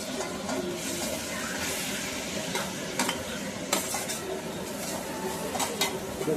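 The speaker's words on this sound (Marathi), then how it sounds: "आता हे मॅरिनेट झालेलं आहे ते फोडणीला टाकून घेते" Marinated chicken goes into hot onion tempering and sizzles loudly and steadily throughout, with occasional clinks and scrapes of a spoon stirring in the pan.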